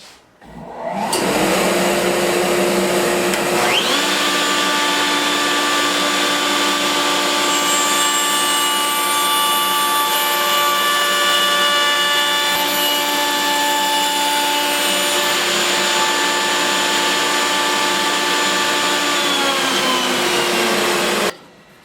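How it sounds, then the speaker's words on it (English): A router rounds over the edges of a simple wooden lidded box while dust collection runs, a loud, close, continuous high-pitched motor whine that starts and spins up, holds steady for about twenty seconds, then cuts off. "So we'll plug in the router, turn on the dust collection."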